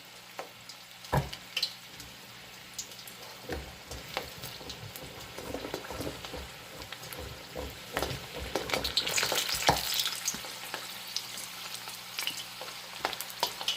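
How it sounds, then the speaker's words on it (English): Onions frying in hot oil for Nigerian akara, a steady close sizzle and crackle with soft scraping and stirring taps, building slightly louder toward the end with no talking. "Yeah, the oil is hot. Now I'm just going to put in some onions for flavor."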